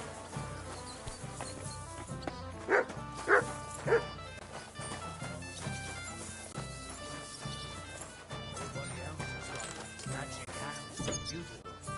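Dog barks in a video game, a few short yips standing out briefly over continuous game music and ambient sound, with some speech present.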